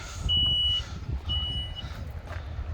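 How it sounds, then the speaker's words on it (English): Two steady electronic warning beeps sound a second apart over a low mechanical hum as the power tailgate of a 2007 Lexus RX400h hybrid SUV closes. "Gives a little beep, and back it goes."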